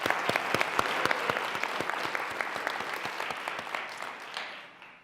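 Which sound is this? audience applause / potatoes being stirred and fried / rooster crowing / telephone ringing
audience applause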